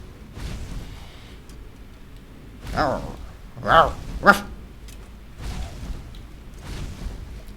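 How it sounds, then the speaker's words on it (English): Draugr undead in the video game Skyrim letting out a few short, dog-like growls and barks over a low game background. "They just record dog sounds for the Draugr."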